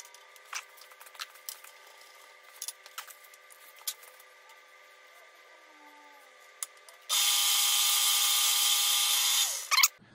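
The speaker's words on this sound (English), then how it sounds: "I'm going to take a 1/8 inch drill bit, poke a hole through there" A power drill with a 1/8 inch bit drilling a hole whines loudly and steadily for about two and a half seconds after some quiet clicks and handling noises, then stops.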